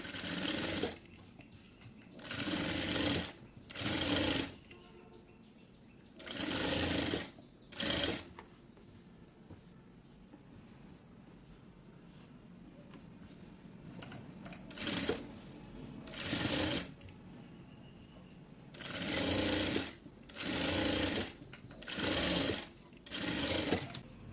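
A sewing machine runs a securing stitch along fabric while a zipper is set into a frock or kameez, in repeated whirring bursts of a second or two, each broken by short pauses, close and clear.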